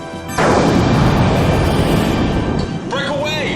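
A sci-fi fan-film space weapon fires at a bomber in a loud, sustained roaring blast that swells and rumbles for about two seconds, then trails off into bright electronic chirps and warbles.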